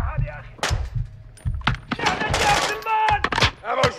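Shotgun fire in the video game Modern Warfare 2: several sharp, booming blasts in quick clusters, close and loud, with voices talking between and over them.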